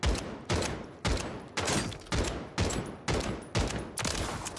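Rapid DG 58 rifle gunfire in a video game at close range: about nine punchy, evenly spaced bursts in quick succession, loud and dry, with no talking.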